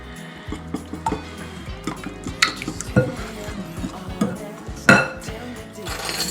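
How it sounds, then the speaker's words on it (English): Eggs being mixed with sweetened condensed milk in a bowl for small lemon custard pies, heard as close, steady clinks and scrapes of a utensil against the dish with a few louder knocks. "so we've got our 2 eggs. Mix those together with the sweetened condensed milk."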